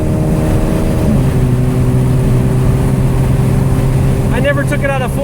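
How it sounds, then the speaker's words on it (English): APR Stage-tuned VW GTI MkV engine revving loudly in fourth gear, a steady droning tone that steps down in pitch partway through, with a brief sharp burst of higher-pitched sound near the end. "I never took it out of 4th because I just like the sound."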